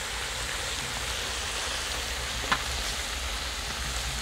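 Fried mutton sizzles in a pan as chili paste goes in, a loud, dense, continuous frying hiss with a brief sharper spatter midway and no voices.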